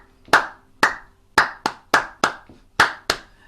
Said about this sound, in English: see if you can clap to your walking feet in time with the